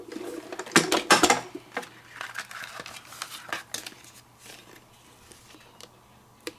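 A Spellbinders die-cutting machine presses card stock through a small cutting die, making a run of crisp clicking and crunching rattles close up that fade to sparse ticks.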